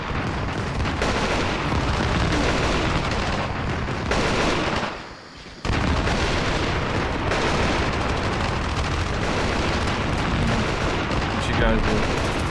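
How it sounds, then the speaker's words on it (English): Heavy bombing of enemy positions in the Armored Brigade II wargame with the Future Konflikt mod. Continuous loud blasts and rumbling fire pound on with a brief lull midway, and a player speaks over the din. "it's time to start bombing these guys"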